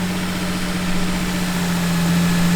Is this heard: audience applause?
no